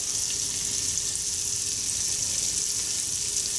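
Red pepper frying in a pan over a campfire gives a steady, even sizzle with a bright hiss throughout, close and continuous, no voices.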